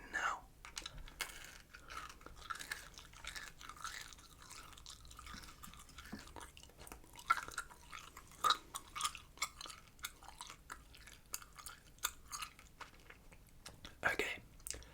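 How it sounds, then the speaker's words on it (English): Close-up gum chewing in a quiet ASMR setting: soft, wet, irregular clicks and smacks repeat steadily, with faint whispery breath or murmured speech underneath. "We're going to do some gum chewing as well"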